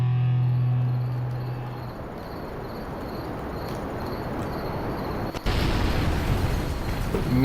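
Orbital artillery strike in the game Kerbal Space Program: a low rumbling blast texture with a sharp, louder burst near the end that keeps roaring, heard alone.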